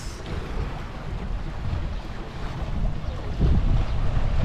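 Choppy water on Taal Lake at San Nicolas, Batangas, sloshing steadily with a gusty wind rumble over the microphone, building toward a louder surge near the end; no voices.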